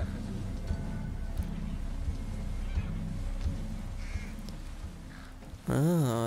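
Bird call in the stealth video game Thief, heard over low, steady in-game ambience with faint rustles, ending in a loud, close, warbling honk-like cry during the last half second.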